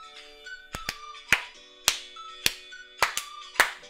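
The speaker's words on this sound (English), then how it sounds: "That's the black lady clap." Sharp, distinct hand claps sound in a steady rhythm, about a dozen crisp slaps in an upbeat church-style pattern, some landing in quick pairs, close and clear over a faint background tone.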